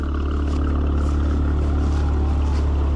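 A 2018 Audi RS5 Coupe with a Stage 2 exhaust rumbles steadily while driving, a deep continuous engine drone heard from inside with constant low-end throb.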